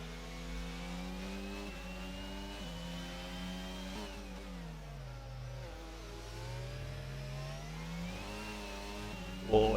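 Racing car engines in a Formula 1 style racing game at the Hungary circuit, a steady high whine rising and falling through gear shifts and corners, with several engines overlapping at moderate, even loudness and no talking.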